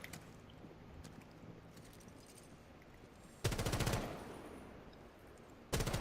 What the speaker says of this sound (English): So I'm shooting the walls there in case Frost is behind them.